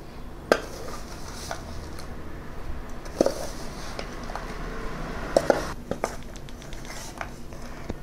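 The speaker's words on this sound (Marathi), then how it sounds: "इथे 1 किलो गूळ आहे तो आपण यामध्ये मिक्स करूया।" A spoon stirs 1 kg of jaggery into Khandeshi raw mango pickle in a pot, making soft scraping and squishing sounds punctuated by a few sharp metallic clinks against the rim.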